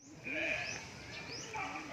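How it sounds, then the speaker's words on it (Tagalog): A goat bleats in wavering cries, close by, with people talking faintly in the background. "Yan ang kambing"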